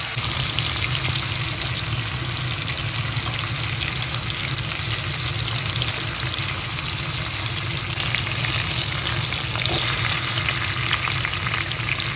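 Cumin seeds and potatoes fry in hot oil in a Bengali home kitchen with a continuous crackling sizzle. Faint bubbling comes through at moderate loudness from start to finish, and no one speaks.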